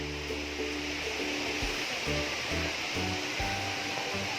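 Erawan Falls, a seven-tier waterfall in Thailand, roars as a steady, loud broadband rush of falling water. A low rumble runs underneath, and no voices are heard.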